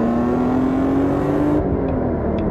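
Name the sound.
BMW M3 engine revving with metallic rasp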